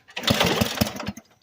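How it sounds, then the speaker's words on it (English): A MOZ-ALL lawn mower engine starts up with a loud burst of rapid, sputtering firing strokes lasting about a second before quickly dying away, heard close and alone. "Yep, this is a MOZ-ALL Lawnmower."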